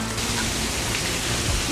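Hail falling during a thunderstorm, a dense, steady hiss of pelting ice on surfaces, continuous and fairly loud with no pauses.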